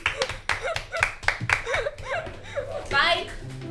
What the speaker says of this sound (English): let's clap for ourselves, people.